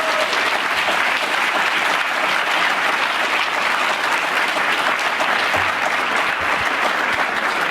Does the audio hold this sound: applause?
yes